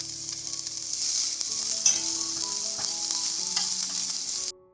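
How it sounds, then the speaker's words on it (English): Garlic fries in hot oil for Korean fried chicken, making a loud steady hiss and sizzle up close with occasional pops and stirring clinks, cutting off abruptly near the end with no talking. "We're going to fry the garlic first."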